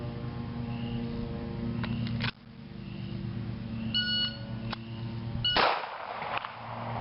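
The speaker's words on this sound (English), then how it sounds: "we'll see if I'll just stop when the second beep sounds" A pistol shot timer gives short electronic beeps during a draw-and-fire drill, with a sharp gunshot-like burst near the end, heard at close range over steady background hum.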